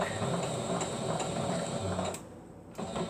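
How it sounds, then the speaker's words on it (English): A sewing machine stitches fabric for a skirt, a steady close mechanical whir running continuously, briefly slowing and dropping in level near the end before picking up again. "I am going to sew down, go back to my mark"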